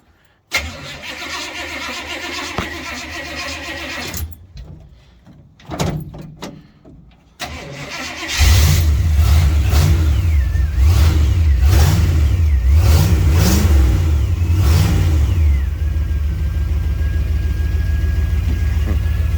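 Jeep Wrangler YJ Unlimited cranking over in bursts, then catching and firing up, followed by several loud, close revs rising and falling before it settles into a steady idle.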